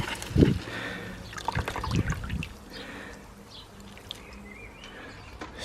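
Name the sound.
watering a plant in the garden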